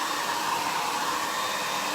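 A hair dryer blows steadily and fairly loudly throughout, drying paint on an Art Deco armoire, a continuous even whoosh with no pauses.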